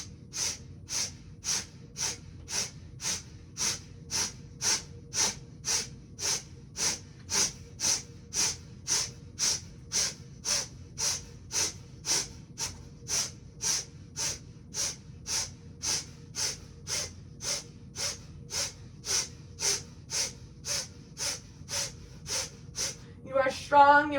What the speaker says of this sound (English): engaging breath of fire.